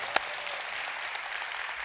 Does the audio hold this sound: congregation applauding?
yes